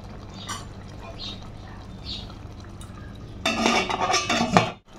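A lid goes down over a pan of Bengali dhakai fish curry, giving a bright metallic clatter and brief rattle near the end, heard close after a stretch of quiet kitchen background.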